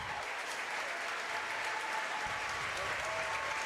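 Sustained applause from a standing crowd at a school district basketball tournament championship, a steady dense wash of clapping that fills the whole stretch at even loudness.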